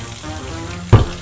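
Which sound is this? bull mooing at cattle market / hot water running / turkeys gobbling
hot water running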